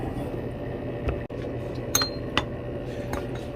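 A few clear clinks of ice cubes against glass, set down to cool a gold solution during scrap refining, ringing out in two or three separate taps over a steady low background hum.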